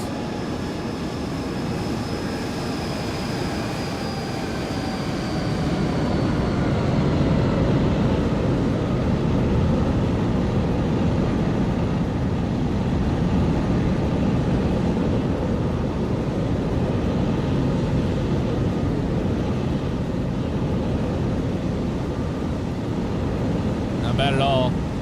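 Airliner landing in a flight simulator, a steady loud jet engine roar and rushing wind that holds for a long stretch, with a faint whine fading early on and a brief rattle near the end.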